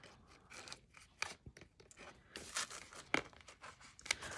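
Scissors or a blade slicing through the binding and paper of an old journal, crisp snips and tearing crinkles in uneven bursts, close and fairly quiet with no talk.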